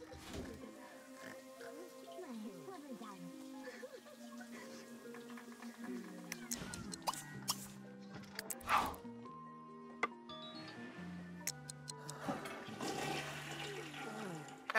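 A toilet flushes in The Sims 3, a soft swirling gush of water heard amid chirpy game music, cartoonish sound effects and faint character babble.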